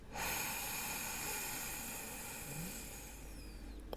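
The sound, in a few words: deep inhale through constricted throat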